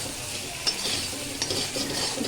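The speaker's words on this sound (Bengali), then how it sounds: "আলুগুলো ঢেলে দিয়ে আবার একবার ভালো করে কষাবো" Potatoes stir-fried with spice masala for alur dom, a close, steady sizzle broken by a few spatula scrapes and stirs in the pan, with no talking.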